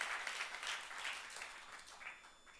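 A church youth congregation at a sermon applauds to glorify God, producing soft, distant, rolling clapping that gradually fades.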